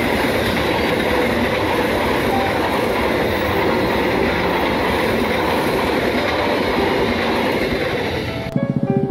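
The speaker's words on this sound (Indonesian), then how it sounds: "Kereta api Progres dari Lempuyangan ke Pasar Senen." A passenger train, the Progres from Lempuyangan to Pasar Senen in Indonesia, rushes past close by with a loud, continuous roar and rattle of wheels, ending abruptly with a few rhythmic clacks.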